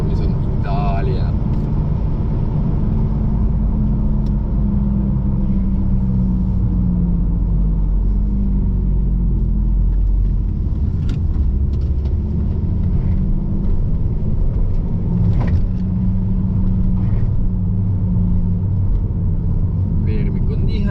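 Alfa Romeo with a 1.4 turbo petrol engine on a test drive, its steady low engine and road rumble running continuously throughout, with someone talking over it.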